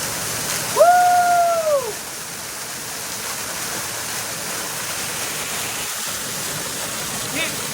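Steady broadband rush of a waterfall, loud and continuous from start to finish, with a short rising and falling high tone near the start.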